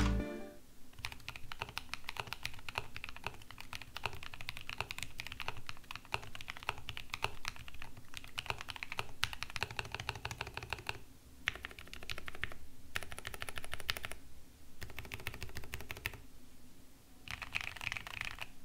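Rapid, clattery typing on a wooden keyboard, close and steady, with short pauses between bursts of keystrokes.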